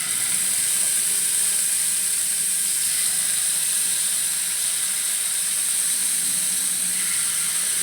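Paneer pieces fry in hot ghee and oil in a pan, giving a steady, dense sizzling hiss that stays even and close throughout, with no talk.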